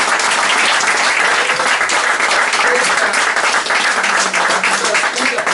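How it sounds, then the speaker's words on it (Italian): Audience applause at an event, loud and sustained dense clapping throughout, near and filling the room, with a voice faintly under it. "un applauso"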